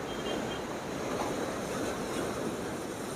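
Sea waves along the Cleopatra stretch of the Alexandria corniche, a continuous wash of surf mixed with wind rumble on the microphone, steady and moderately quiet with no voices.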